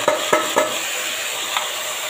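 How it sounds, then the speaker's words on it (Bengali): Marinated chicken with garlic paste goes into a hot pan for a chicken stew. Three quick clattering knocks come first, then a loud, steady sizzle fills the pan. "এটাকে ম্যারিনেট করা চিকেনটাকে এতে ছেড়ে দিলাম"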